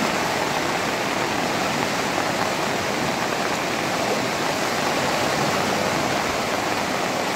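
Flood water rushes down the flooded Jalan Duta Indah Raya street like a river, a loud, continuous roaring wash with no break and no voices.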